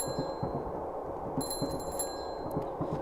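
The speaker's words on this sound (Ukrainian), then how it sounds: "Можна подзвонити в дзвоник." A bell rung inside a video game rings out in a few bright metallic tones over a steady, murmuring background.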